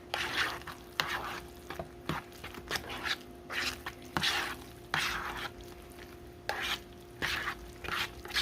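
Milk being stirred into garlic potatoes with a spoon in a pot, a string of soft, regular scraping and swishing strokes about once per second, close and fairly quiet with no talking.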